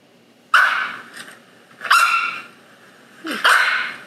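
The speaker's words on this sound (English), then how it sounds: "I think that is a dog barking." A dog gives three loud, sharp barks spaced about a second and a half apart, each one close and clear against a quiet background.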